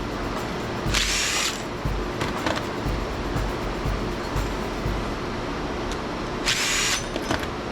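A power drill whines in two short bursts, about half a second each and several seconds apart, while copper pieces are stripped from steel in a shop, with clattering handling noises between.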